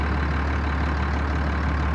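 A John Deere 7810 tractor with a mechanical gearbox idles in a steady, close, heavy low drone, with no voices over it.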